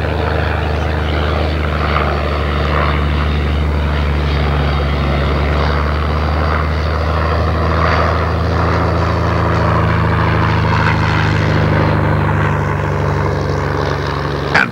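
Vintage WWI aircraft, an SE-5A joined by an LVG, flying with their engines droning loudly and steadily, a deep continuous propeller hum that holds throughout before cutting off abruptly at the end.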